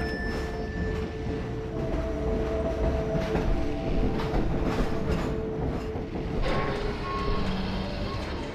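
A train rolls along rails in the video game Half-Life 2 with a continuous, dense rumble and clatter. Faint tonal beeps and hums sit over it, and there is no clear talk.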